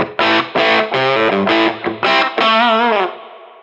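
Electric guitar through a Teisco distortion pedal set to low gain plays a short phrase of choppy chords and notes, ending on a sustained bend that fades out; close and clear, no talking.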